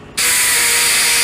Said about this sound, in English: and of course the compressor is going to start